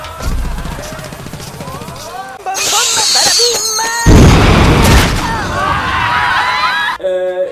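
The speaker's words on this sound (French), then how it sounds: "Comment un seul explosif a pu faire exploser entièrement un truc aussi gros" A huge cartoon explosion blasts apart something enormous, a loud booming burst with crashing debris that swells suddenly and rumbles on, mixed with music and effects.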